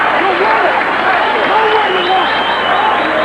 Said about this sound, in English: Standing ovation for Michael Bent and Ike Padilla